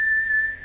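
A single steady whistled note from a person, clear and close, holding one pitch for under a second with no talk around it.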